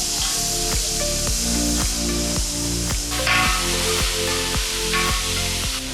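Onion paste hits hot oil in a busy Nellore kitchen and fries with a loud, steady sizzle, while a spoon or ladle stirs and scrapes the pan in a quick repeating rhythm.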